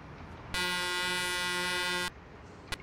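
A truck's horn in Euro Truck Simulator 2 sounds once as a steady, loud tone lasting about a second and a half and then cuts off cleanly, with only a faint click afterward.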